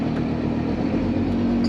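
A Massey Ferguson 7718 tractor engine runs loud and close with the power take-off shaft engaged, a steady rumbling drone with a slight clattering edge held throughout.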